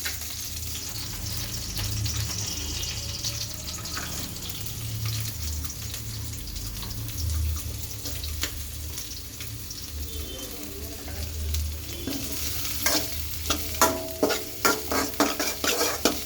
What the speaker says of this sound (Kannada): ಹೀಗೆ ಫ್ರೈ ಮಾಡ್ಕೊಳ್ಳಿ ಗೋಲ್ಡನ್ ಕಲರ್ವರೆಗೂ. ಅದು ಈ ಥರ ಆದಮೇಲೆ ನೆಕ್ಸ್ಟ್ ಕ್ಯಾರೆಟ್ ಹಾಕೊಳ್ಳಿ.